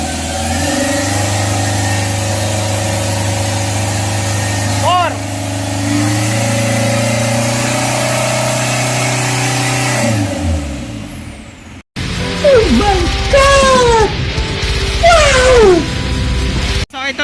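An Isuzu Trooper's 4JX1 diesel engine runs at a steady raised idle with a constant low hum, eases off, then revs up and down in rising and falling sweeps while people talk nearby.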